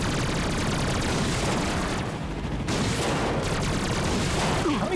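Weapon fire from the PS4 video game Ratchet & Clank (2016) sounds as dense, rapid blasts and booming bursts. The shots are loud and near, and they carry on almost without a break for several seconds.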